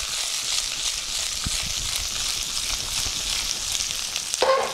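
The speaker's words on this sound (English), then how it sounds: "Now it's time for us to add the onions and stir that around as well." Onions frying in oil with ginger and garlic for a potato spinach curry, a close, steady hiss of sizzling with a brief stir and clatter near the end.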